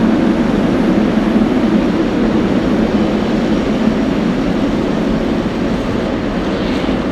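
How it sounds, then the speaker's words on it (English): A Cessna 182 light aircraft flying near JFK airport, a continuous low droning engine hum with a steady rumble, fairly loud and unbroken, with no one talking. "Now that is a Cessna."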